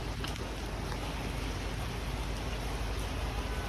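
Heavy rain pours down steadily outdoors, a dense, even broadband hiss filling the whole stretch without pause.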